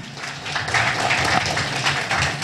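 A Tamil stage-event audience claps together in a dense, steady wash of applause that keeps up without a break, heard fairly close and with nobody talking over it.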